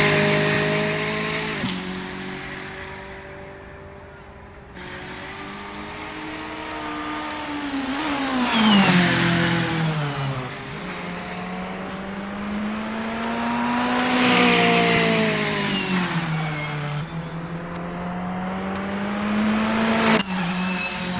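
Volkswagen Scirocco Silhouette race car in Assetto Corsa on an outlap, its engine rising and falling through repeated gear changes, with revs climbing, dropping and climbing again, heard close and alone.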